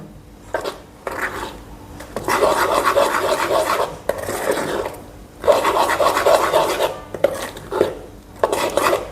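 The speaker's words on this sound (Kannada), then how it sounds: "ಇದೆಲ್ಲ ಹಾಕ್ಕೊಂಡು ಚಮಚ ತೊಗೊಂಡು ಚಲೋ ತಂಗೆ ಮಿಕ್ಸ್ ಮಾಡ್ಬೇಕ್ರಿ ಅದನ್ನ" A metal spoon scrapes and rubs through chili powder and spices in a bowl, a close, steady raspy stirring in several bursts with short pauses between.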